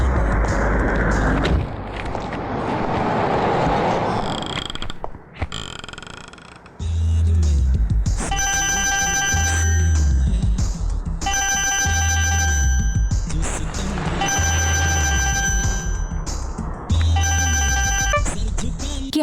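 A phone ringtone plays in repeated bursts, loud and close, after a stretch of muffled noise and brief rumbling at the start.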